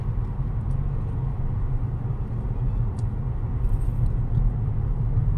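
A car climbs the on-ramp of the NAIA Expressway in early-morning traffic, heard as a steady, loud low rumble of engine and road noise from inside, with no talking.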